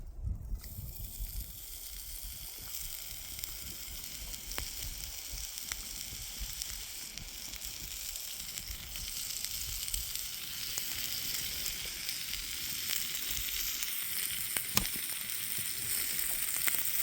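Salt-cured pork sizzles steadily in a compact folding skillet at an outdoor bushcraft camp, a dense crackling fry running the whole time with a few sharp pops, close and fairly loud, no voices.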